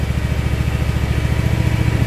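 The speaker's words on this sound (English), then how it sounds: "Pull back on your handle to move your implement up." Oggun compact tractor running steadily while its implement is hydraulically raised, a close, loud, even engine drone with a low pulsing throb throughout and no talk.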